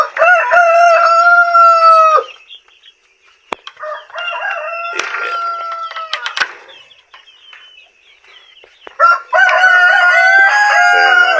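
Roosters crowing before dawn, three long loud close crows with pauses between, other birds faintly audible in the gaps.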